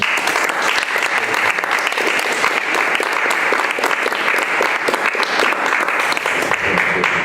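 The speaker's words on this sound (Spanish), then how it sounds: "Pues un aplauso para él." Loud, dense audience applause at a book presentation on dramaturgy and deconstruction in dance, sustained clapping from a close crowd for several seconds.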